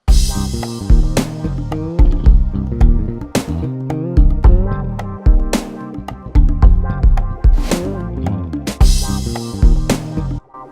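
A full music track with a synthesizer pad added underneath, with punchy drums, repeated sharp cymbal crashes, bass and layered melodic parts in a loud, dense mix throughout, with no talking.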